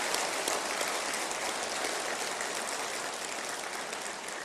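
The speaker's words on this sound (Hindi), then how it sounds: "एक बार उनके लिए भी ताली बजाएं" An audience at a public ceremony applauds in a dense, steady wash of many hands clapping, holding an even loud level throughout.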